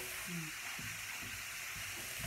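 A soft, steady sizzle and hiss rises from a pan of food simmering with onions for a quiche, faint and close, with a few low bumps and murmurs underneath.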